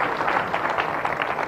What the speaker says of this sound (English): A round of applause to His Excellency,